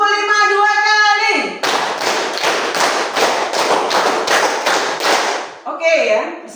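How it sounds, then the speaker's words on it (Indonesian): A school class claps in unison in a counted rhythmic drill, a run of about ten sharp, evenly spaced claps between a teacher's spoken counting at the start and a voice at the end. "tepuk 5 2 kali."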